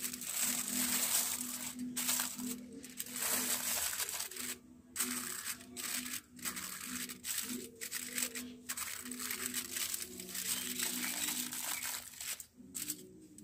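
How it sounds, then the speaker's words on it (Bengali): Foil paper is crumpled and crinkled continuously at close range, a dense, rustling crackle lasting over ten seconds with brief lulls. "তো এখানে আমি নিয়েছি ফয়েল পেপার।"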